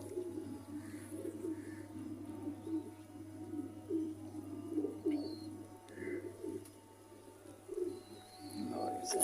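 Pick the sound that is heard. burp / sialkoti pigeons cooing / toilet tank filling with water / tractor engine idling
sialkoti pigeons cooing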